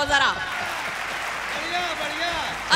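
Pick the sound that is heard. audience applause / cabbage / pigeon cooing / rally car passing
audience applause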